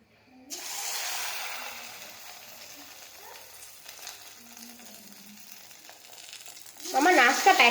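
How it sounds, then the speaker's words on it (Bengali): Chicken pakora batter sizzles into hot frying oil, a soft steady crackle building to a louder, busier burst of spitting near the end, close by with no talk. "আমার তেল গরম হয়ে গেছে, ছাড়া যাক চলো।"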